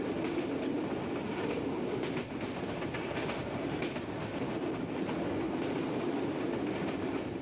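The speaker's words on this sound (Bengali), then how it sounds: "রেলের চাকার ঝনঝন শব্দ শুনতে শুনতে" A passenger train runs between Dinajpur and Panchagarh in Bangladesh, its wheels clattering over the rails in a steady, loud, unbroken rumble heard from inside the carriage, with no voices.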